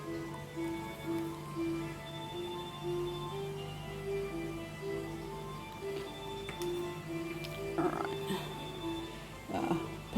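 A clock alarm goes off with a steady, repeating pulsed tone lasting the whole stretch, joined by a few sharp clicks and knocks toward the end, with no talking.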